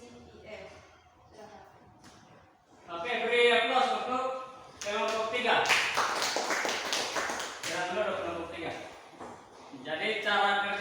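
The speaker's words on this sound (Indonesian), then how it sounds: "Oke, beri aplaus untuk kelompok 3" A classroom of vocational students claps for a presenting student group, dense patter of hands rising and falling in waves, loud and close, with voices mixed in.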